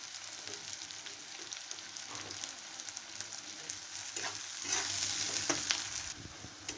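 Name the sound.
onions and slit green chilies frying in pan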